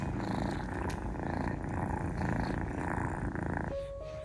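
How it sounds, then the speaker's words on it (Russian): Kittens purr close by in a steady, rumbling chorus that continues throughout, fading near the end as a faint tonal sound takes over. "И урчат."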